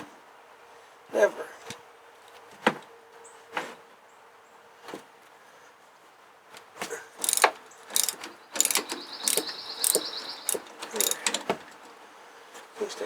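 Ratchet wrench clicking as it loosens the muffler bolts on a Dongfeng farm tractor, first in a few separate short bursts, then in rapid repeated clicking runs close by, with a faint steady hum underneath.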